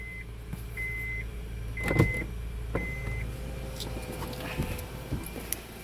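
A Honda 3.5-litre V6 idles steadily after a jump start, a low continuous engine hum with a few short electronic beeps and a brief whir on top.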